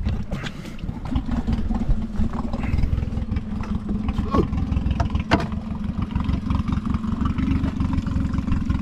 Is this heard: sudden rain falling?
no